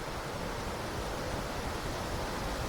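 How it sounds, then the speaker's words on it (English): Waterfall plunging roughly 100 feet down a slope at the historic Independence gold mine, a steady broadband roar of rushing water heard alone, constant and unbroken throughout. "this is all waterfall going down"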